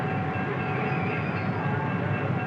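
A 1950s passenger train, with a big engine pulling passenger cars, gives a steady, loud rolling rumble and rattle that holds unchanged throughout with no voices.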